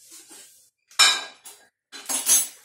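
A small spoon clinks against a container while scooping yeast for bagel dough, in several short, bright metallic taps and scrapes separated by brief pauses.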